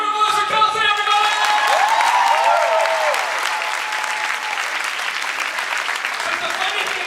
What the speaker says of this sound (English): Big round of applause for Kelsey